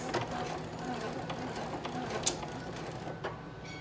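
A domestic sewing machine runs reverse stitching through fabric, giving a quiet, rapid mechanical clatter with faint ticks and clicks, heard close with a voice speaking over it.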